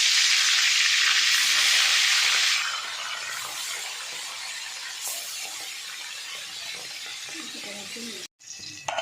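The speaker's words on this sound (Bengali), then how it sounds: "তেলটা গরম হয়েছে, এখন দিয়ে দিচ্ছি মাছ" Fish slid into hot oil in a pan, a loud bright hiss for the first couple of seconds that settles into a quieter steady sizzle, ending with a brief clatter and pause.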